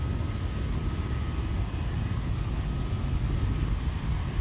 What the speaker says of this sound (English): Falcon 9 has cleared the tower at Space Launch Complex 4 East